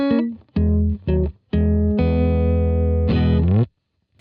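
Electric guitar through a UA Ruby pedal emulating a Vox AC30 amp, loud overdriven strums and a short chord riff with abrupt stops, ringing sustained chords, then silence at the end.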